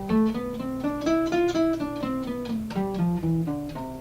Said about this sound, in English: That's the sound of the consecutive picking.